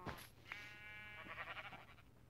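A sheep in Minecraft Pocket Edition bleats: one short, wavering call near the start, then a longer, quieter bleat that trails off, set against soft game ambience with no talking.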